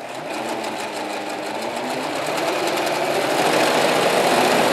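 A sewing machine runs flat out alone, its rapid mechanical whir and dense needle chatter holding steady and loud, growing slightly stronger toward the end.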